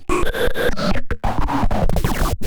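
Processed electronic drum hits run through a phaser effect, with a swirling, sweeping tone that warps and scratches, played in a quick irregular pattern, loud and close.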